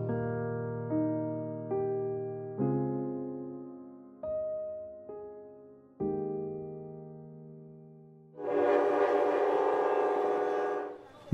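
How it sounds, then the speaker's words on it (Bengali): Train arriving at a station in a cold hill town, sounded as a series of long mournful whistle blasts that fade one after another, then a loud hissing rush of steam or brakes at the end, with no voices. "বৈকাল শ্রীপুর শহরে যখন রেলগাড়ি এসে থামল"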